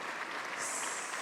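Applause from the audience at an insurance-sector convention, a dense steady patter of many hands clapping that swells slightly partway through the brief burst.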